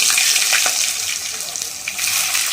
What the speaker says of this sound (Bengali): তেলের মধ্যে বেগুনগুলো লাল লাল করে ভেজে তুলে নেব